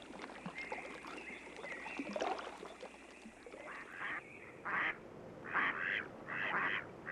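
Mallard duck quacking on a marsh pond, a run of loud, evenly spaced calls in the second half over a steady outdoor background, following quieter mixed calls at the start.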